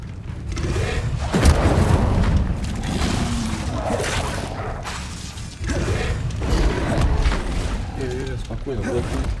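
A fire spell cast in Hogwarts Legacy bursts out in whooshing, booming blasts and mechanical clatter, loud and close, with a voice talking over parts of it.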